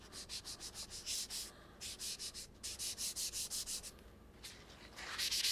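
Pencil graphite is rubbed back and forth across paper to blend and smooth shading on a drawn cube, quick rhythmic scratchy strokes in close, quiet bursts with brief pauses between them.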